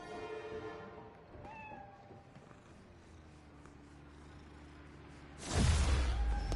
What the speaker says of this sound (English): You ready to swing, Spider-Cat?